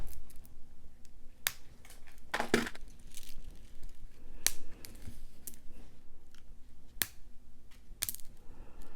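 Bead packages being cut open with scissors during an unboxing, giving scattered sharp snips and crinkly plastic rustles at close range, with no talking.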